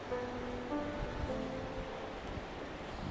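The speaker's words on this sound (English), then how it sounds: "We're back on the beach this morning, just about sunrise" Waves roll on a beach around sunrise as a low, steady wash of surf and wind, with faint tonal hums drifting in the background, moderately quiet and unbroken, with no voices.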